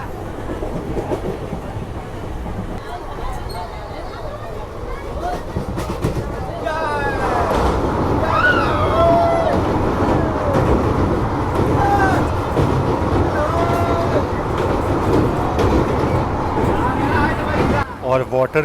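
A train rolls onto the long bridge over the wide Ghaghara river in Uttar Pradesh, its rumble and rhythmic clatter swelling louder and holding steady, with a voice talking over it.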